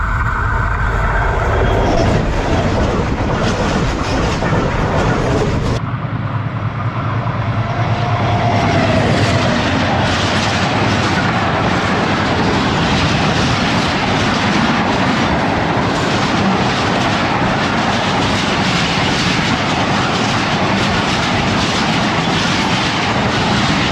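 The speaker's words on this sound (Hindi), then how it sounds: "पूरे 100 किलोमीटर फ़ी घंटा की रफ्तार से गुजर गई भोए आसल अबेंडेंट रेलवे स्टेशन से" A train races through Bhoe Aasal railway station at about 100 km/h, a loud, close, sustained roar with rhythmic clickety-clack of wheels over rail joints.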